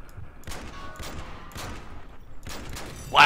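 In the video game MW3 Spec Ops, Desert Eagle gunfire and other shots crack out in a spaced series over a busy game background, with a louder burst at the end.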